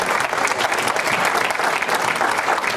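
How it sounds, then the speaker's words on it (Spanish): A church congregation breaks into dense, sustained applause, many hands clapping together loudly and continuously throughout. "Denle un aplauso al Señor."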